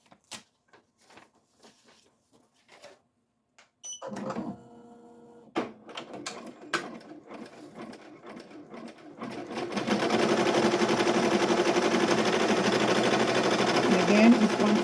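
An embroidery machine stitching white thread onto a Halloween shirt starts with scattered clicks and a motor whir, then settles into a loud, steady, fast rhythmic stitching drone for the last several seconds.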